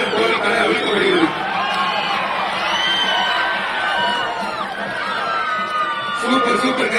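A crowd at a Jallikattu bull-taming event in Pudukkottai shouts and cheers continuously, a dense wash of voices with some whoops, with someone talking over a loudspeaker on top.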